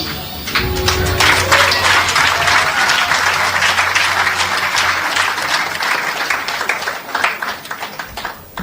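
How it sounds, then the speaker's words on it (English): An audience at a town hall forum breaks into sustained applause, a dense wash of many hands clapping that swells quickly and holds steady for several seconds before tapering near the end. "A round of applause for our presenter, Shadow Minister Dr. Deborah Hickling Gordon"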